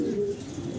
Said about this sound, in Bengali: দেখেন অসাধারণ এক জোড়া দেশি গররা কবুতর।